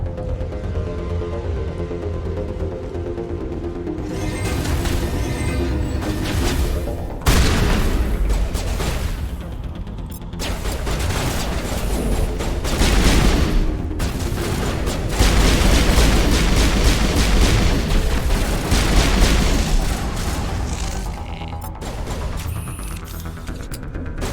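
Rolling, booming detonations of planted charges or bombs in Mass Effect Legendary Edition, a series of heavy rumbling blasts overlapping one another, loud and continuous with sharper hits around the middle.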